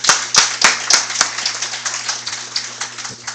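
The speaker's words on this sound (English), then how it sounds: "Please give another round of applause." Scattered clapping at an AU Mission event in the USA, a few loud distinct claps at first that thin into lighter, uneven applause from a small gathering over a steady low hum.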